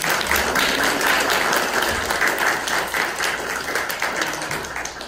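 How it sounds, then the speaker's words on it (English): Sustained applause from a recital audience at a summer piano studio performance, dense steady clapping throughout that tapers slightly toward the end. "more round of applause for all of them."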